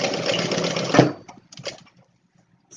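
A domestic sewing machine runs steadily for about a second, basting a bag seam shut at the bottom, then stops, leaving a few soft clicks and handling noises close by.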